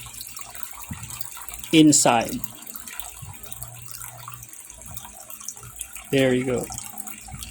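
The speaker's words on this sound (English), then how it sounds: "So I'm just gonna allow the water to overflow" Water is poured into a lotus-seed planting container until it overflows, a soft trickle running under the quiet scene while a voice speaks briefly twice.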